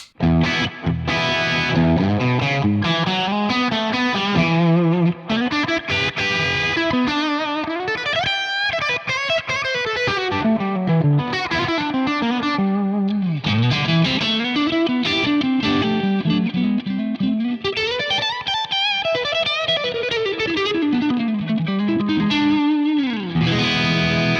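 Distorted electric guitar with chorus-like effects through a Victory V4 Sheriff amp with cab simulation plays sweeping, bending lead lines continuously, loud and saturated.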